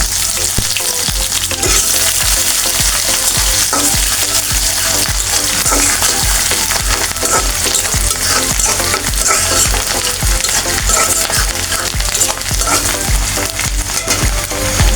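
Three bay leaves, garlic, spices and dried red chilies fry in hot soybean oil, giving a loud, steady, close sizzle with crackling pops and occasional stirring scrapes throughout, with no voices.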